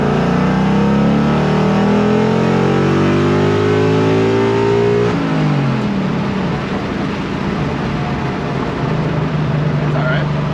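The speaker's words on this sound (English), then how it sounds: "A little wide open throttle pull with it." A Coyote-swapped 2006 Mustang engine roars loud and close through a wide open throttle pull, rising in pitch for several seconds before easing off, then droning on steadily.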